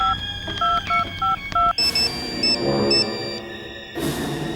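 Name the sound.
telephone dialing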